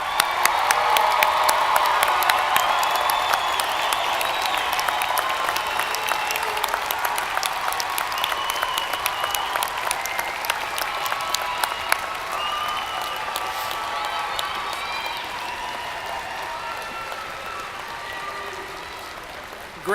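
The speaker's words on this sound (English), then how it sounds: "Let's give the graduates another round of applause." A large commencement crowd applauds university graduates, dense sustained clapping filling the hall for the whole stretch, gradually thinning toward the end, with scattered faint shouts mixed in.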